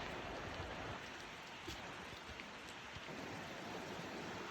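Blackwell Creek runs beside a Georgia hiking trail, its water rushing in a constant, broadband wash that stays even and fairly soft, with no voices over it.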